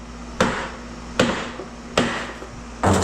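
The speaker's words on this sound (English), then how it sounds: "when you hit it, whatever you put it on is gonna absorb your hammer blow" A hammer strikes a scrap transformer core four times at a steady pace, each blow a sharp metallic knock with a short ring-out, close and without talk.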